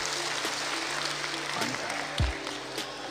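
Audience applause at a sales training seminar on selling LIC insurance policies, a dense steady wash of clapping from a crowd that holds loud across the whole stretch with no voices over it.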